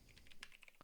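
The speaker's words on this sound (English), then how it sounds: "I'm hitting enter too much." Quick clicks on a computer keyboard while coding, a rapid run of light taps ending in a firmer keystroke, close and quiet with no talk.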